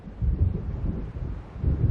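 Rumbling thunder of an approaching storm over open water in the video game Alan Wake, a low continuous roll with swelling surges and wind, heard alone without voices.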